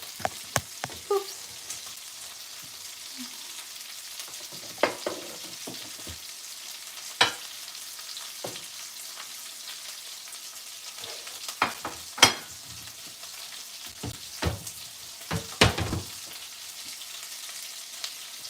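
Shrimp fry in hot oil for a po' boy, a steady crackling sizzle with sharp pops and spatters scattered throughout, close and without talk.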